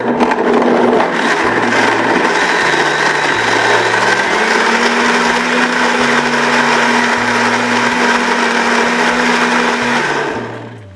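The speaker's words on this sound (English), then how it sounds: "I'm going to turn the blender on so it's going to create a bit of noise" A blender making Bajan cherry juice runs steadily for about ten seconds, a loud continuous whirring motor with a shifting pitch, then winds down at the end.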